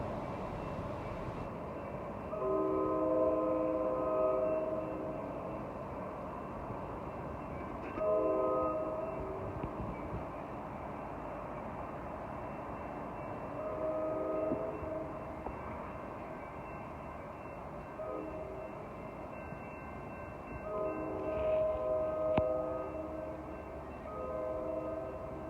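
A train passing at Jack London Square in Oakland, California, heard at moderate distance, with a long steady rumble of rolling cars and several drawn-out horn blasts repeating through the pass.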